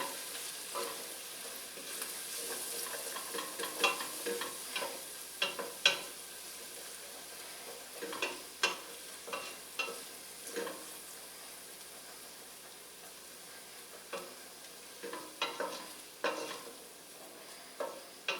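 Onion, bacon and butter sizzle gently in a pan under a soft continuous fry, while a utensil stirs and scrapes in irregular clicks and knocks, quiet and close, with short pauses between bursts of stirring.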